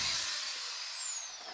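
An electric drill whirs with a bright, steady high-pitched hiss and a whine that slowly falls in pitch as the motor winds down, close and fairly loud throughout with no voices.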